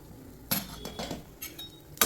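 A metal lid lifted off a frying pan of fried egg: a few sharp clinks and clatters, close and clear, with no talk.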